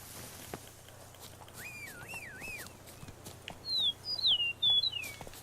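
Birds in The Witcher 3: Blood and Wine sing outdoors, first a wavering warble, then a series of high, sharp whistled chirps, clear and fairly close over faint ambient hum.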